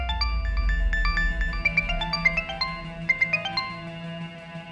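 A phone ringtone plays a bright electronic melody of quick stepping tones, several short notes in a row over a faint low hum.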